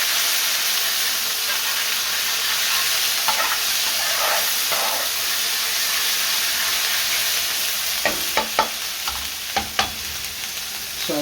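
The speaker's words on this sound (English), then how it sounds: "we're going to add tomato puree. Just give that a good stir." Tomato puree is stirred into a sizzling curry of potato and spinach in a hot pan, a constant loud frying hiss with scraping spoon strokes growing sharper and more frequent toward the end.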